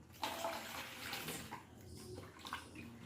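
Tapioca pearls (sago) being washed in filtered water, giving close, steady swishing and splashing of water throughout, with no talk.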